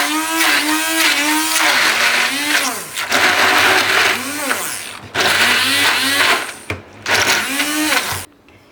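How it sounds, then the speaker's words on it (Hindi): A kitchen blender grinding chutney ingredients whines loudly in several long bursts, its pitch rising and falling as the load shifts, with brief stops between runs and someone speaking over it. "मेरे पास ये ब्लेंडर है तो मैंने इससे कर लिया है"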